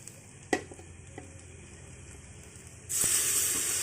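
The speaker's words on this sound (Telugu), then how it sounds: "ఉల్లిపాయలు కొద్దిగా ఫ్రై అయ్యాక అల్లం వెల్లుల్లి పేస్ట్ వేయాలి. అల్లం వెల్లుల్లి కొబ్బరి బాగా ఫ్రై అయ్యాక" Onions fry in a pan with ginger garlic paste and coconut, a low sizzle with a few knocks of stirring, then a sudden, much louder hissing sizzle that keeps going to the end.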